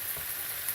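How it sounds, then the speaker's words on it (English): Peas and onions fry in sausage fat in a pan, a continuous soft crackling sizzle that stays steady and fairly quiet throughout its brief span. "Meanwhile, the peas are frying in that"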